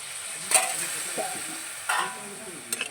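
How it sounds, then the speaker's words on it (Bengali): Sautéed pui metuli (Malabar spinach stems) in a pan on a rustic stove, with water poured in. A low sizzle runs throughout, and a few short bursts of stirring and clatter punctuate it. "সব কিছু ভালো করে কষানো হয়ে গেছে এবার আমি জল দিয়ে দেবো"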